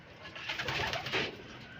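Racing pigeons arriving at a home loft after a 328 km derby lap, with soft bird calls and cooing under a steady broadband rustle that lasts just under two seconds.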